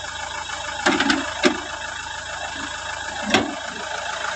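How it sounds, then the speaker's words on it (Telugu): A Mahindra XUV 500 W10 engine idles with the bonnet raised, giving a steady, smooth hum throughout with a few sharp clicks and knocks near the start and end. "ఫ్రెండ్స్ ఇంజన్ బీటింగ్ కూడా చాలా మెత్తగా మెత్తగా అయితే ఉంది"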